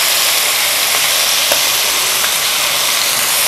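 Chicken fried rice cooks in a hot pan with a loud, dense, continuous sizzle and hiss, close up, with faint stirring scrapes now and then.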